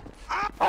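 A dog in GTA V barks in short sharp yelps, two quick close barks in under a second, loud over a low game background.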